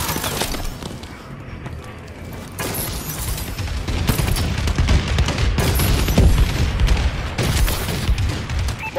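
A friendly bombing run in Call of Duty: Advanced Warfare sends heavy explosions and booming blasts rolling one after another, mixed with sustained gunfire in a loud, dense battlefield wash.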